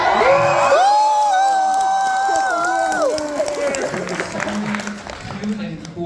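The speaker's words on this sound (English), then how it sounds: "This is one hell of a crowd." A large convention panel crowd at New York Comic Con 2024 cheers, whoops and applauds loudly, a dense wash of many voices with shouts rising over the roar before it eases slightly toward the end.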